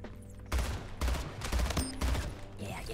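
Bursts of gunfire in a Portal 3 beta shooter game, several loud rapid volleys in a row with short gaps between them.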